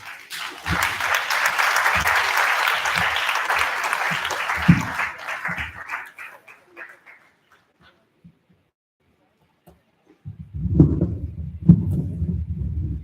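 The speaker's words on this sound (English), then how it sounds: "I don't think that is enough applause" Applause from a conference audience follows a speech, several seconds of broad clapping with some thuds that thins out and stops, then a short silence before a voice speaks.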